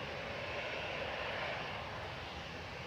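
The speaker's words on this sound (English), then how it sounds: "EasyJet 2171 to Amsterdam, GZUI, A320 Classic" An easyJet Airbus A320 Classic jet roars at Manchester Airport, a broad, steady engine rush that stays at an even loudness for the whole stretch, with no voices.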